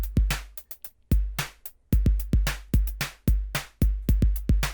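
A sequenced electronic drum pattern plays: punchy kicks and snappy snares in a steady groove, with quick clusters of snare hits forming fills between beats, loud and dry with no voices.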